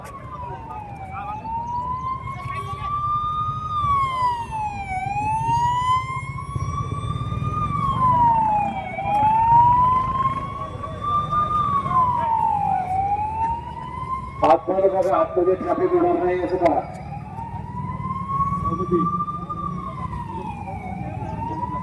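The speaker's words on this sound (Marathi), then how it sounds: "आपल्या कार्यकर्त्यांनी अँब्युलन्सला जागा करून द्या" An ambulance siren wails in a steady rising-and-falling cycle, loud and close, passing through a road blockade protest over a rail line, with crowd noise, traffic and people talking over it.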